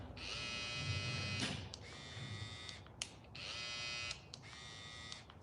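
Babyliss cordless hair trimmer running close by with a steady high electric buzz, switched off and on several times in short bursts, fairly quiet and with no talk.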